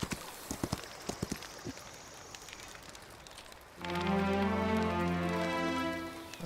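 Horse hooves clip-clop in a video game, loud and steady from mid-clip after a quieter stretch of scattered knocks and ambient noise, with the sustained tonal layer of the game running beneath the hoofbeats.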